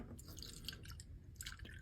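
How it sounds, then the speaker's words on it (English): Diesel fuel poured into a small paint cup in a workshop, heard as a faint, continuous liquid trickle with scattered dripping splashes and no voices. "Pour some diesel in there like that."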